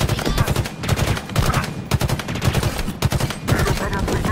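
Rapid automatic gunfire in the video game Halo Infinite, dense continuous bursts of shots with brief breaks, loud and close, layered over game battle noise.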